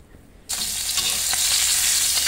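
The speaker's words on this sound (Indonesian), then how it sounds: "Goreng ikan." Fish dropped into a small amount of very hot cooking oil bursts into a loud, continuous sizzle after a quiet half-second start, crackling steadily and up close with no talking.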